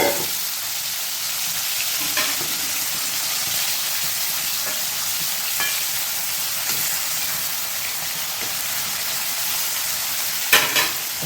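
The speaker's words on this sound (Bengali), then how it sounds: "এই দেখুন চিংড়ি মাছগুলো ভাজা হয়ে যাচ্ছে" Prawns frying in hot mustard oil in a wok, a continuous crackling sizzle with occasional stirring clinks and scrapes, close and fairly loud, no talking.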